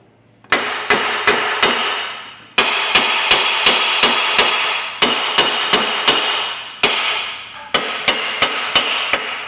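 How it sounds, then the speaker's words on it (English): A hammer strikes the bolt ends on a Ford Mondeo Mk5 rear wheel hub, giving about twenty sharp metallic blows in quick bursts of three to five with short pauses between, loud and close. "we're going to hit the end of these bolts with a hammer"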